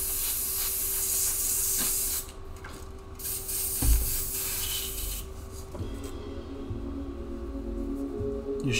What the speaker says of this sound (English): So I'm just doing, just rinsing out my airbrush.